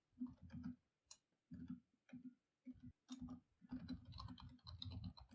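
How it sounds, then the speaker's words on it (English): Keyboard typing on a computer during a tabletop roleplaying session, heard as bursts of close, quiet key clicks with short pauses, growing denser and more continuous toward the end. "Sorry if you hear me typing."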